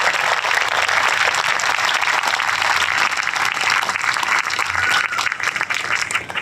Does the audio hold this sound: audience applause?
yes